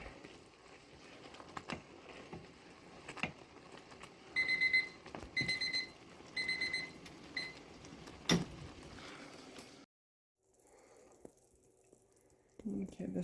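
A kitchen timer beeps in short bursts while grape jam cooks on the stove, with faint bubbling and clatter underneath. The beeping cuts off abruptly and is followed by a moment of near silence before quiet kitchen sounds resume.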